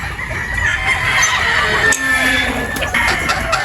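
Young pullet chickens cluck and squawk close by, a busy overlapping chorus of short calls with one sharper cry, heard alone without talk.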